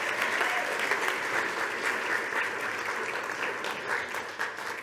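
An audience at a mountaineering slideshow talk about climbing in Patagonia claps together in dense, even applause that stays loud for the whole stretch before thinning slightly at the end.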